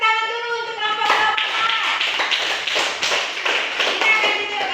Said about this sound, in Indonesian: Kita tepuk tangan dulu untuk kelompok Global.